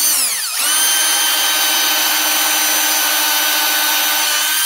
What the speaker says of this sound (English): Drill one here then.